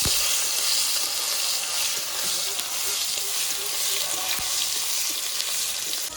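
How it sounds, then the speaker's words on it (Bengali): Chopped tomato fries steadily in a pan with a dense, continuous sizzle and crackle, close and loud throughout, with faint stirring clinks now and then and no talking. "টমেটোটা একটু লাল লাল করে ভেজে নেব।"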